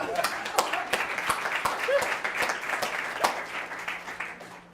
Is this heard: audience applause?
yes